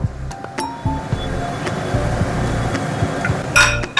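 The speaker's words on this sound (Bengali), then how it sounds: "এবার আমি এই যে বেদানাটা এর মধ্যে মিশিয়ে দেব।" A spoon mixes pomegranate seeds into cooled mango chutney in a pot, giving loud, irregular clinks and scraping knocks against the vessel over a steady background rush.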